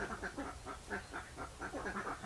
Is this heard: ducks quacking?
yes